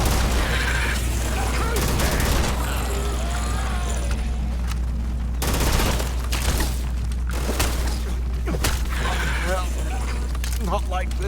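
Gunfire and explosive booms in a Starfield sci-fi shooter game, repeated bursts over a constant low engine drone, with a voice talking throughout.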